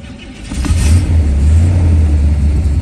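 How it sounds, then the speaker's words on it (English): A 1968 Corvette's 427 cubic-inch 390 hp engine cranks and catches on a cold start, then settles into a loud, steady low rumble close by. "Go ahead and start this car up."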